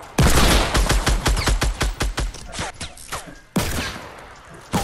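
Rapid bursts of gunfire ring out in the Fortnite video game, a fast string of sharp shots followed by a brief pause and another loud burst.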